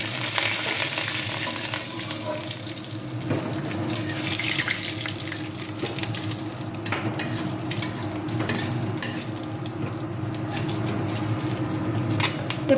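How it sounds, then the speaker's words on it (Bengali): Three chopped onions fry in a pan after asafoetida and tempering spices for masala dosa filling, a continuous sizzle with frequent stirring clatters and scrapes, no talk over it. "এরপর আমি কুচানো পেঁয়াজটা দিলাম সম্বার ভাজা ভাজা হওয়ার পর"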